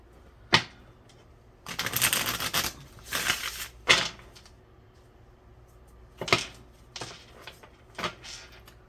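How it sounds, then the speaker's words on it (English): Tarot cards are riffled and shuffled in several bursts of crisp rustling and snapping, close up, with quiet pauses between. "Let's get just a couple shuffles here."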